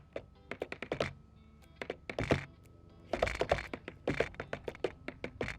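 Quick bursts of light tapping on a homemade tap board, clustered into fast rhythmic runs separated by short pauses, close and fairly quiet, indoors.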